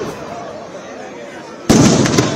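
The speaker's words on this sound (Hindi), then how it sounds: "रावण दहन हुआ है पटाखों के जरिए" A sudden loud burst of firecrackers erupts at a Dussehra Ravan effigy burning after a stretch of muffled crowd noise, crackling densely and continuing to the end.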